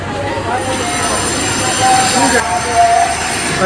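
Steady rumble of a Vande Bharat high-speed express train in motion, with a continuous rolling roar and faint high metallic squeal, heard from inside a carriage with voices murmuring.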